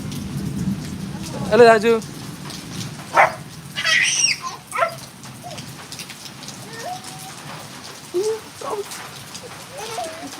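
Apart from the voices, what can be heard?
rain falling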